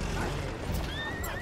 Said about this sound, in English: I got the horse.